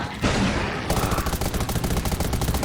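Gunfire in the video game Undawn erupts as a burst followed by rapid, dense automatic fire, loud and close, with each shot cracking in quick succession.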